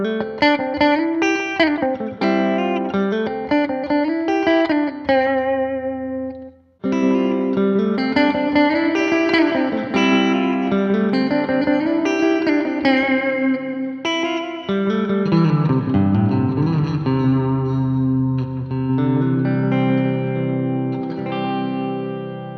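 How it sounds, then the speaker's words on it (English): Electric guitar played through a pedalboard with a clean tape slapback delay and a dark spring reverb, ringing chords and single notes with short repeats and a reverberant tail, steady and close with no talking. "I primarily use the clean tape setting for a slap back delay, and use the dark spring reverb setting for a little bit of reverb."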